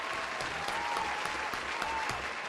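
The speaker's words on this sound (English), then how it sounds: "Clap it up for my boy" A small crowd claps steadily for a guest in a talk-show setting, a dense even patter of hands with a few cheers mixed in, close and moderately loud.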